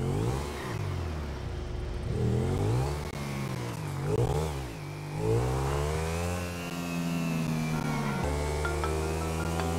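A motorbike engine in the video game GTA 5 revs up and down, a loud buzzing drone whose pitch rises and falls in several sweeps before settling into a steady hum.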